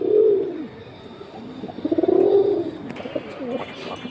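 Male Afsan and silver pigeons coo close by in a loft, with two throaty rolling coo phrases and light rustling between them.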